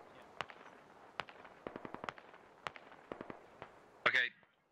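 Gunfire in the SquadOps video game: a series of sharp, distant cracking shots in an irregular rhythm, some in quick clusters, followed by a louder burst near the end.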